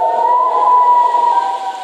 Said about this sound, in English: We were all freaking out in my house because we've never heard the siren before.